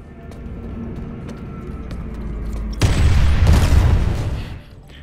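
A C4 charge paired with a tank mine detonates in the Planetside 2 video game, a single deep booming blast that rumbles for over a second before fading, following low ambient game noise.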